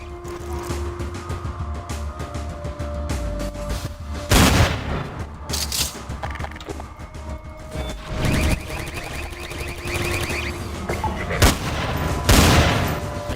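Gunfire in a Half-Life 2 mod called Operation F.O.R.C.C., with several loud sharp shots and blasts spaced irregularly over a steady hum of game ambience.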